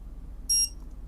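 A HOCO E94 GPS tracker gives one short, high electronic beep at power-on, clear and close against a low background hum.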